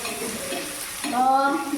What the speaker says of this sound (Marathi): आता हे सगळं आहे ना परत एक दोन मिनटं परतवून घेते